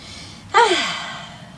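A single deep inhale on waking, a sharp audible gasp-like breath that trails off slowly, close and alone in a quiet room, part of a seniors' gym breathing routine.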